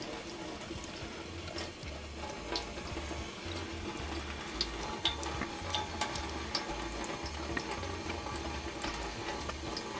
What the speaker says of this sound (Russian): Я снимаю это с помощью воды, просто под кран, и под легким напором воды потихоньку начинаю отмачивать и пальцами скатывать.